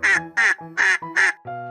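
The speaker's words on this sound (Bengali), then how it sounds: "ডাক মানে হাঁস।" A duck quacks four times in quick, evenly spaced succession, loud and close, followed by a short sustained tone.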